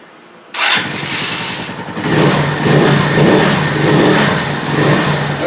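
A motorcycle engine on choke cranks and catches with a sudden burst, then settles into a loud, steady, slightly uneven idle with rising and falling surges close by, no one talking.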